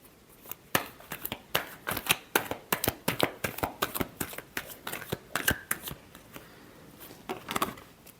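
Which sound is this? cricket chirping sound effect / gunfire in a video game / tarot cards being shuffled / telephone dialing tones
tarot cards being shuffled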